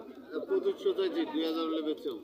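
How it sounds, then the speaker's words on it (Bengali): Pigeons coo close by at a busy pigeon market in Ashulia, giving a run of soft, wavering, throaty calls across a couple of seconds. "এখানে অনেক কবুতর আছে অ্যাকচুয়ালি অনেক কবুতর দেখার মতো"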